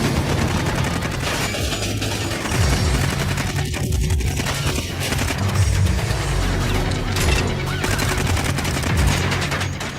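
Heavy gunfire barrage striking a car's protective shield, a dense, continuous clatter of shots and impacts holding loud and steady throughout with no break.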